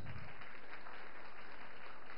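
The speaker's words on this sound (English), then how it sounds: "No applause for the teachers?" An audience applauds the teachers at a speech honouring Mr. Subramanyam, a steady wash of dense clapping that holds evenly throughout, fairly faint and with no voices over it.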